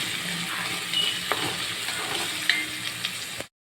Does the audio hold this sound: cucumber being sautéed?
yes